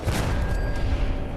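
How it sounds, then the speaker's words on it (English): An explosion in Fallout 4 gives a short, dull, booming blast with some rumble, moderately loud, fading within about a second. "That's funny that the explosion launched that guy."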